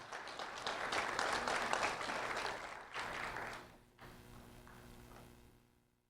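A room at a civic ceremony gives a round of applause for a third-grade student who led the pledge, sustained clapping that tapers off halfway and fades into quiet hum.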